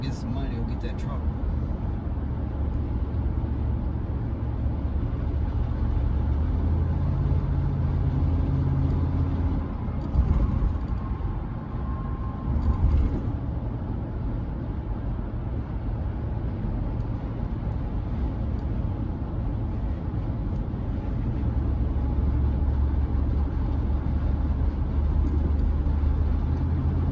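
Cabin drone of a car driving with a broken catalyst coming apart in the Y-pipe exhaust, a steady low rumble running throughout with a few brief swells, while someone talks over it.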